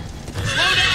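A horse neighs in the video game Minecraft Story Mode, one short, bright whinny rising near the end of a brief moment, loud and close with no speech over it.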